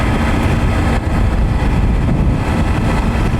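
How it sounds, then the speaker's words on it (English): A Triumph Tiger 900 Rally Pro with an Arrow exhaust runs under load with a continuous loud, throaty roar, steady throughout with broad rumbling noise and no voices. "if you punch it under load, it's got a nice burble or roar"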